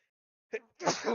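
A single short sneeze, close and fairly quiet, immediately followed by a brief burst of voiced sound.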